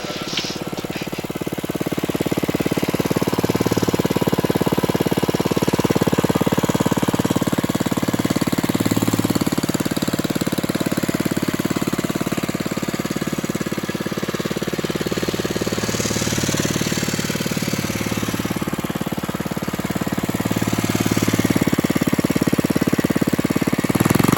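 A Villiers Mk12 engine, freshly fuelled and oiled, kicks into life and runs steadily, its loud, dense hammering exhaust chatter holding close and continuous with slight swells in speed.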